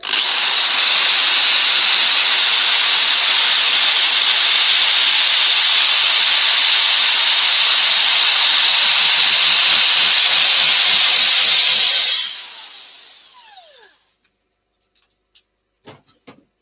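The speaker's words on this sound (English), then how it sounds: "Now I'm going to sand the inside to 400" A power sander works on the inside of a small coloured, textured square dish at 400 grit, giving a loud, steady, hissing whir for about twelve seconds before spinning down, followed by a few light knocks.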